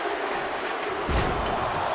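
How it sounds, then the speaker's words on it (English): A large wrestling arena crowd shouts and roars together during a count at a War Games match, a dense, continuous wall of voices that swells slightly midway. "The crowd is counting it down."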